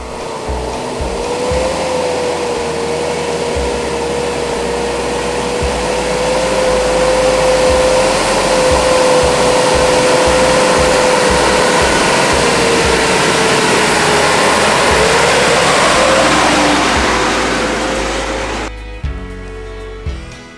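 A 4WD vehicle's engine labours in first low gear up a forest track in Bunyip Forest, a loud, steady high-revving drone with thumping bumps from the rough ground, then cutting off near the end.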